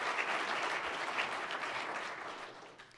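An audience claps for the Ontario finance minister during a Canadian Club speech. The applause is a steady, fairly distant crowd patter that slowly thins and fades toward the end.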